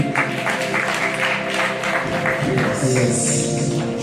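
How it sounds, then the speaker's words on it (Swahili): A church congregation at a Sunday service breaks into loud, dense clapping that rises and carries on for several seconds, with a few voices mixed in. "Wow, so wacha tuwapigie makofi mazuri."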